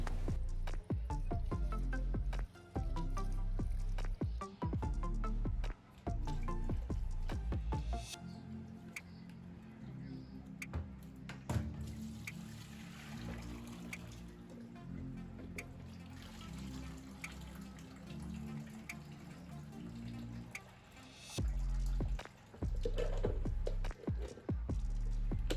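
Rice is swished and rubbed by hand in a pot of water. The sound is a close, quiet sequence of wet squishes, sloshes and drips, with pauses between bursts of stirring.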